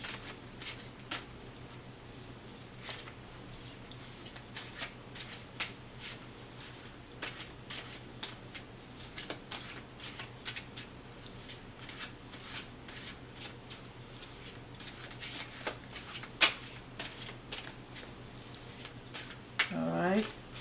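Tarot cards are shuffled by hand, giving soft, irregular riffles and flicks that repeat through the whole stretch over a low steady hum, with a brief louder rustle at the close.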